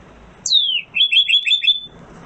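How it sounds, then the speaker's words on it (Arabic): A small bird gives a single descending chirp followed by a quick run of rapid twittering notes, clear and close against a quiet background. "عصفور. bird."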